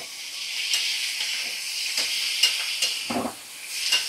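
Chopped green chillies hit hot oil in a Bengali fish curry with papaya, cooked over medium flame, giving a steady bright sizzle and hiss with a few soft stirring scrapes and one lower bubbling burst near the end.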